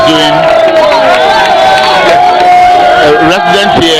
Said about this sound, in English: residents here are cheering him up